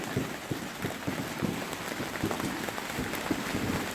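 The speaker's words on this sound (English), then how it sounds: "you can hear the rain" Rain patters steadily on an inflatable air tent overhead, a dense close drumming of drops with occasional heavier taps, no voices.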